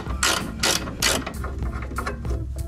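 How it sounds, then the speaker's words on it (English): A hand ratchet clicks rapidly in short bursts, about five strokes, while loosening the sway bar end link bolts on a 2022 Subaru BRZ; close and crisp, with no talk. "I'm gonna take off the sway bar end link bolts"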